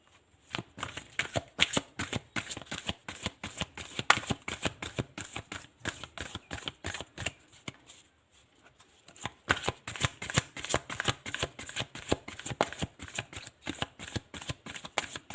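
A deck of reading cards is shuffled close up in rapid, repeated riffling bursts, briefly pausing partway before the crisp flapping resumes.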